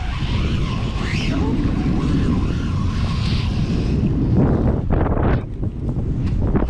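Wind buffets an outdoor microphone in a steady, loud broadband roar that rumbles on for several seconds, easing briefly near the end before surging again.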